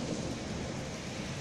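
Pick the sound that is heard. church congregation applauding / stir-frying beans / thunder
thunder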